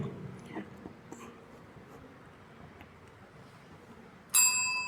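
In a quiet classroom during a finger-tracing letter activity, a single bright bell ding rings out near the end, loud and close after several seconds of faint background rustle.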